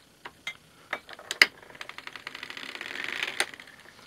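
A hand-cranked circular sock machine clicks and ticks as its cylinder is turned while a sock heel or toe is knitted, with sharp irregular needle clacks building into a denser rattle, close and fairly quiet.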